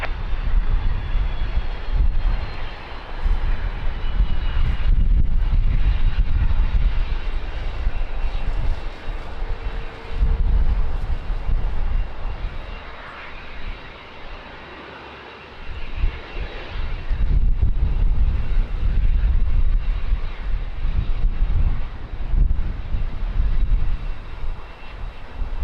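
A jet airliner powers up and rolls for takeoff on runway 20 at Lisbon Airport on a windy day, a loud continuous engine roar with rushing wind noise, dipping briefly midway before swelling again.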